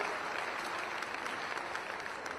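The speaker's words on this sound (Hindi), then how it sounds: "जोरदार तालियां।" A crowd at the closing ceremony of the Gorakhpur Mahotsav gives sustained applause, a dense, even roar of many hands heard from some distance.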